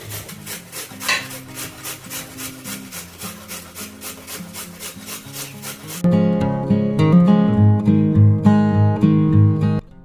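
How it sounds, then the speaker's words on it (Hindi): A carrot scraped against a kitchen grater gives steady, rhythmic rasping strokes up close, then louder music comes in partway through. "बस इस तरीके से ये जो घिसने वाला है इसमें एक गाजर ही काफ़ी है"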